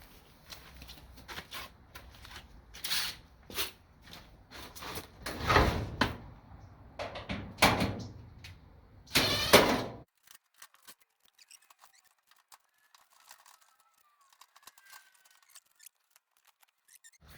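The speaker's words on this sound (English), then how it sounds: "So we just got to undo some screws back there." Screws being backed out of the top cover of an electric dryer, with a burst of scraping, clicking metal handling over the first ten seconds, then near silence with only faint ticks.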